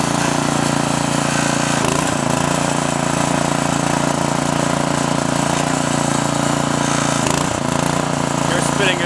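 A Sears snowblower engine runs loud and steady up close with its augers spinning, a continuous buzzing drone with a couple of brief rattling surges.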